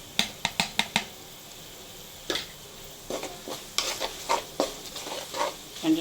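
Kashmiri chilli powder is stirred into mango pickle frying in a pan, sharp spoon taps against the pan opening the clip, followed by irregular scraping strokes and clinks over a faint sizzle.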